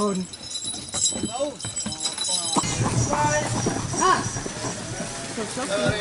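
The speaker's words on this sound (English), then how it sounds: "now we are riding a horse for the first time on the island" Hooves of a horse pulling a taxi clip-clop along a street on a car-free island, under nearby talking, with faint jingling and the rhythmic clatter continuing throughout.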